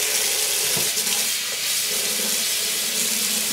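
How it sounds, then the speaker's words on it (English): Running tap water pours steadily as dyed silk hankies are rinsed clean of soap and color, a continuous close splash and hiss with faint handling of the wet fabric. "we will keep rinsing until the water runs clear and there's no soap left in the fiber"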